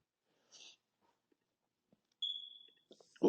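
A smoke alarm gives a single short, high electronic chirp against near silence, with a few faint scattered noises before and after.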